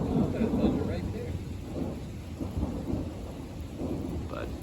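Rolling thunder from a lightning storm, a low continuous rumble that swells early and then lingers at a steady, moderate level, with a soft wash of rain or wind beneath it.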